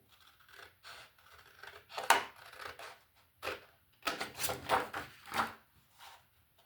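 Scissors cutting paper to make scrapbook baskets. Close, crisp snips come in irregular bursts with short pauses, including a quick run of several cuts near the end.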